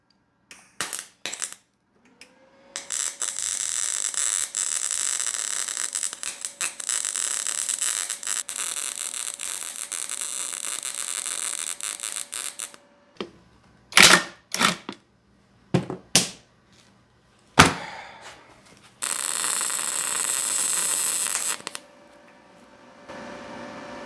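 Arc welding on a Jeep Wrangler TJ slip yoke eliminator part, with the amperage set low: a long steady crackling buzz, then short bursts and clicks, and a second sustained crackle near the end, all close up.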